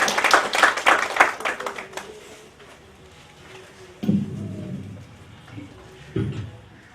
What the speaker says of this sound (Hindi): इनके लिए जोरदार तालियों से स्वागत